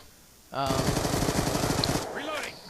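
An MSMC submachine gun in Black Ops 2 fires one continuous rapid burst of loud, evenly spaced shots lasting about a second and a half, followed by a short metallic tail as the firing stops.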